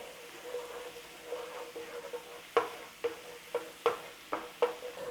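Steady frying sizzle of hot chilies fills the background while a utensil scrapes and taps the pan in a series of sharp strokes.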